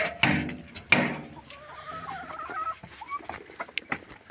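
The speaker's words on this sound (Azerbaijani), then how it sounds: "Bu qara türkən." Black turkey among chickens on a farm, giving short gobbling calls amid sharp knocks and scattered fowl sounds, near and moderately loud.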